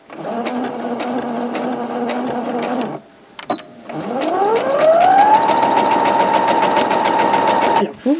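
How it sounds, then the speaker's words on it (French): A sewing machine stitches the inner lining fabric of a pouch, a close mechanical whirring hum that runs, stops briefly, then spins up again to a faster steady rattle. "le tissu intérieur, et on fait pareil, on coud"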